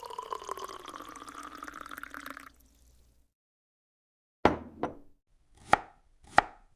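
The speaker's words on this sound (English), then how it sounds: "I dice the vegetables." A knife dices vegetables on a cutting board: four crisp, separate chops, close by, after a few seconds of trickling liquid and a short silence.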